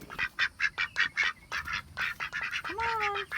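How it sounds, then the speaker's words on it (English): Pet ducks quack in a rapid, rhythmic series of loud, close calls, a brief squeaky whistle-like note near the end, with a person speaking softly underneath. "Come on, little duck ducks, come on."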